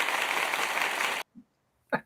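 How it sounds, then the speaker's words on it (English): A canned applause sound effect dropped into a radio-style livestream: a dense burst of clapping for just over a second that cuts off abruptly, followed by a short pause and then a brief voice speaking. "oh, wait, we have applause"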